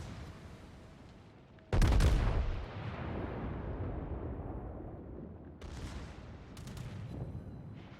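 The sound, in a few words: battleship Iowa gunfire hitting carrier in World of Warships video game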